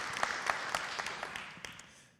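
An audience at a conference applauding, a short burst of scattered hand claps at a moderate distance that tapers off over about two seconds.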